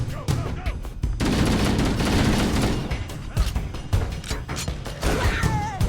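Rapid bursts of weapon fire aimed at a Shade turret in Halo: Combat Evolved Anniversary, loud and close, coming in dense repeated volleys with short pauses and mechanical clatter between.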